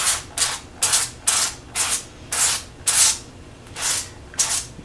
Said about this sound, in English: Go in and spray everything down, or drizzle if you don't have a sprayer.